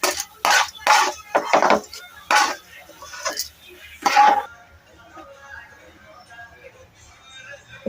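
Utensils clink and scrape against a bowl while curry leaf spice powder is transferred into it: a handful of sharp, close knocks in the first half, then quiet room tone.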